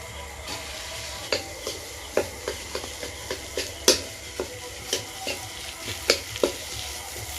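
A low sizzle from a pan of mashed potato filling for aloo chop frying with turmeric, with a series of sharp scraping and tapping hits, like a spoon stirring and pressing food, spaced irregularly.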